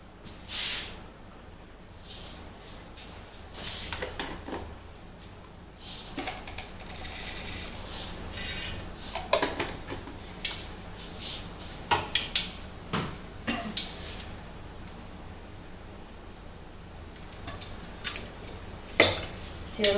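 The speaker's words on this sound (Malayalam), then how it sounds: "എണ്ണ ഒഴിച്ച് കൊടുത്ത് നമുക്കിനി കടുക് പൊട്ടിക്കണം." Mustard seeds splutter and pop in hot oil in a pan, scattered sharp crackles and hissing bursts with some clinking of cookware, fairly quiet and close, without speech.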